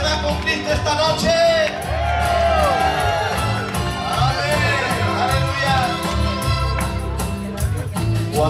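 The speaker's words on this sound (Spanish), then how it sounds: "Un grito de júbilo." A concert crowd at a 2014 Christian music event in New Jersey shouts and whoops in joy, a sustained roar of many voices with scattered high cheers over loud background sound.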